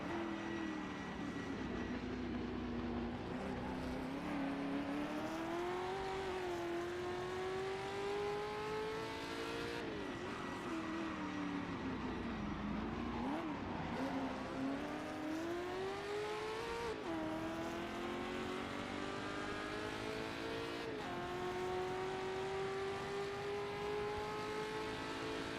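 Historic endurance racing cars in Assetto Corsa drone past nearby, their engines rising and falling in pitch through gear changes and acceleration with a continuous, loud mechanical whine.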